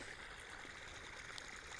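Irrigation water running into a kalonji field, a faint, steady trickling wash with no talk over it.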